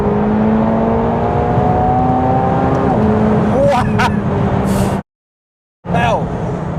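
A McLaren 720S sports car drives along, its engine droning with rising and falling tones, a brief higher rev burst midway, then a sudden drop to silence before the engine note returns.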